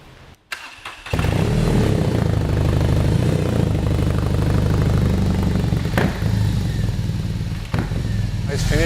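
A pre-prototype BMW R 18 boxer motorcycle with a prototype exhaust fires up after a brief starter whir, then settles into a loud, steady, throbbing idle close by, with occasional blips and a person speaking briefly over it.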